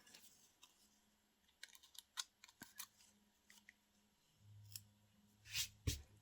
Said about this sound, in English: So I'm just going to roughly cut a little bit of this out here, just so I don't have so much white.